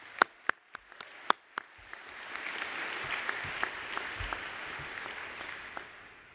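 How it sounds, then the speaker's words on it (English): Audience applause at a Penn Dental Medicine graduation ceremony: a few sharp, separate claps at first, then a sustained, moderately loud round of clapping from the crowd that holds steady to the end. "So a little bit of applause for those who made it possible."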